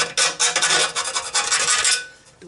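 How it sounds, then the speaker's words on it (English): A rat tail file rasps against the metal of a Jeep JK transmission pan drain plug modification, deburring it. Quick, rough strokes sound close and alone for about two seconds. "Now all we gotta do is file it. What do I got? Got my rat tail file."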